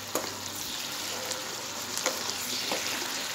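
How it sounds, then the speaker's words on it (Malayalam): Kerala vegetable stew is stirred in a pot over the heat, a steady wet sizzle broken by a few knocks of the spoon against the pot, close up with no one talking. "ഇത് നല്ലോണം ഇളക്കാം"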